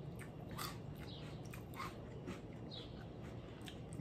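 Someone crunches and chews a mouthful of Kellogg's Little Debbie Oatmeal Creme Pie cereal, a series of soft, close, irregular crunches with no talking.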